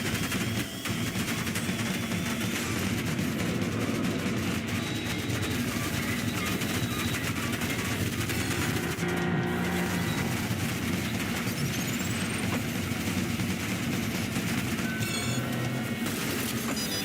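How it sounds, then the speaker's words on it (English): A train boss fight in the video game Ultrakill, with dense, continuous metallic rumbling and clattering mixed with rapid gunfire and combat noise, loud and unbroken throughout. "We get a train boss fight."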